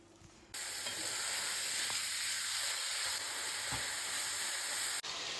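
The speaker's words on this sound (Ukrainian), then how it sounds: "І зараз його просто обсмажу на сковорідці." Minced meat sizzles loudly in a frying pan, starting abruptly and hissing steadily throughout, with an occasional scrape, then cutting off near the end.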